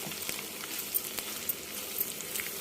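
Stuffed brinjals with masala filling frying in a pan, giving a steady close sizzle with small crackling pops scattered throughout.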